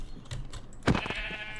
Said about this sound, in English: Is there another white sheep around?